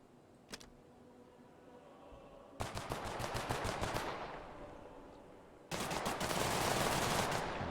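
SMG bursts in the video game The Last Haven: a single early shot, then two long rapid-fire volleys of close, loud automatic gunfire separated by a fading tail.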